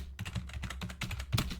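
Rapid uneven keystrokes on a computer keyboard, close and clear, with bursts of clicking and brief pauses, no speech.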